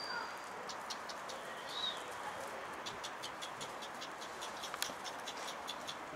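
Birds near a backyard chicken coop, with a run of soft chirps and tweets over a steady outdoor hiss, fairly faint and continuous, with a brief sharper call partway through.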